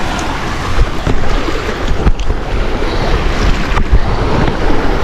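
Rough sea surf rolls steadily against the shore during overnight fishing at Pulong Bae, a constant broadband wash of breaking waves with wind buffeting the microphone and a few louder surges.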